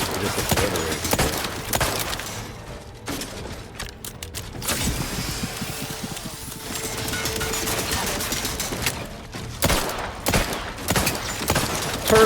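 Stationary armored turrets in Outer Worlds 2 pour out loud, sustained automatic fire with mechanical clanks and creaks. Bursts stop and restart, with crackling impacts, across twelve seconds.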